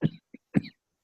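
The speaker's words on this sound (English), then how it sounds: "Scott's coughing." Scott, a man on a podcast, gives two short coughs close to the mic, the first longer and heavier, a faint throat sound between them, then silence.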